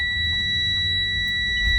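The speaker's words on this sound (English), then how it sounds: "Must have the key in the on position. Have to be constant. I can hear the buzzer and see the light." A school bus warning buzzer sounds with the key in the on position: a steady, unbroken electronic tone for the whole stretch, over a low engine-like rumble.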